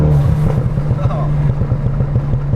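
A Ford Focus RS exhaust on overrun makes a rapid series of pops and crackles over a rumbling engine, close and loud, with a voice talking faintly underneath.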